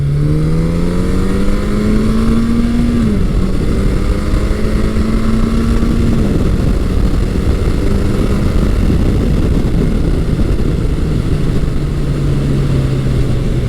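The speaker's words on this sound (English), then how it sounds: "that thing just gets up to speed so quickly, and that was not full throttle" A classic motorcycle accelerates hard and close, its engine note climbing in pitch through two quick gear changes and then holding a steady high drone under loud, continuous wind and road roar.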